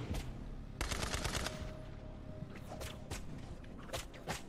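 Borderlands 3 gunfire sounds faintly at a distance, with a quick burst of automatic shots early on and then scattered single cracks over a low steady background.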